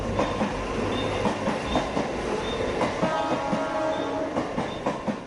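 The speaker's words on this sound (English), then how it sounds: "local train finally दौड़ रही है" A Mumbai local train running, with loud, steady rumble and rhythmic clickety-clack of wheels on rails, faint squeals and close-up rolling noise throughout.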